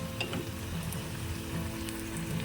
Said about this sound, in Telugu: అల్లం, పచ్చిమిర్చి, కరివేపాకు వేసుకొని బాగా వేయించుకోవాలి.